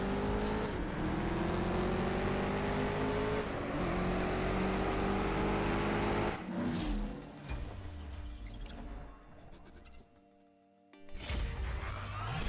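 A drag race car running nitrous in the racing game CSR2 screams loudly through the gears, pitch rising and dropping with each shift, then the engine fades to near silence before a burst returns at the end.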